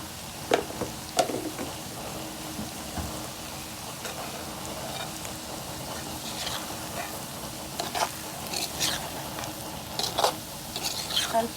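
Potatoes and small onions frying in a pan with chili powder, a soft continuous sizzle with intermittent scraping and clinking as the mixture is stirred.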